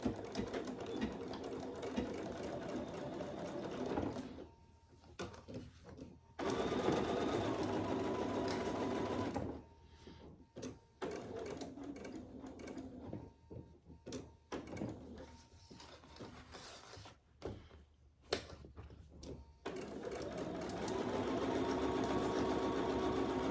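A sewing machine stitches down the sides of a fabric clutch in fast, buzzing runs, stopping and starting several times with short pauses between bursts, close and clear with no talking.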